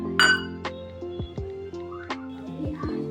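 Small bowl being greased with oil for a choco lava cake gives several bright, ringing clinks and taps, spaced unevenly over a few seconds, close and clear against a quiet background.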